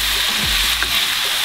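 Zucchini and chili pepper fry in a pan while being stirred, with a steady, fairly loud sizzle throughout and a brief scraping stir partway through.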